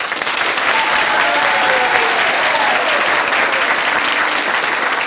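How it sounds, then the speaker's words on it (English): Studio audience applause on a late-night comedy news show, loud and sustained for about five seconds of dense steady clapping, with faint cheers and whoops riding on top. "Let's give a round of applause to this hero."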